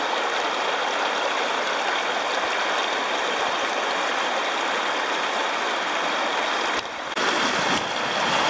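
A river in eastern Oregon flows steadily as a broad, constant wash of running water, close and loud throughout, with a brief dip and shift near the end.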